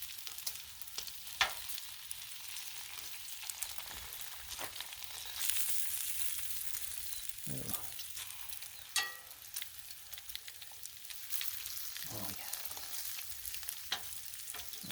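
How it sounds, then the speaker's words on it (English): Bacon sizzles and crackles steadily on a Blackstone flat-top griddle, a continuous broadband frying hiss with occasional sharper pops and scraping stirs, close and moderately loud with no talking. "The bacon continues to cook just like eggs."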